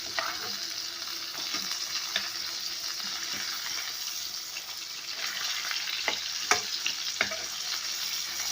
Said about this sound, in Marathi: तीनही बांगडे भाजायला टाकले